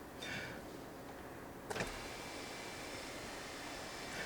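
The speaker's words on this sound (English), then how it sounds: "you can open the sunroof, and it actually opens up quite nicely" A quiet electric motor hums steadily inside a 2020 Alfa Romeo Giulia TI as the sunroof slides open, with a brief click partway through against soft cabin noise.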